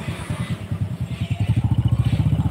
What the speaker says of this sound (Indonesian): Kita gasnya taruh di RPM 3000-an